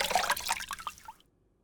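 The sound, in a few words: water sloshing as someone gets out of a bath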